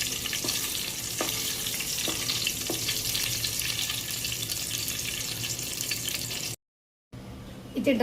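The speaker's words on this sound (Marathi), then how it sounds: "थोडंसं तूप ॲड केलं आहे आणि त्यामध्ये ड्रायफ्रूट्स थोडेसे भाजून घेते." Dry fruits roast in ghee in a pan while making lapshi, giving a steady, loud sizzle and frying hiss with faint stirring clicks, broken by a brief cut near the end.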